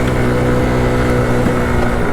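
A scooter engine fitted with a big bore kit revs hard and steadily, a loud buzzing drone held wide open and close up the whole time.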